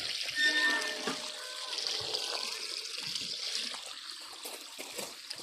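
Water runs and trickles steadily while a container fills, a near, moderate rushing that wavers slightly, with a voice speaking over it at times.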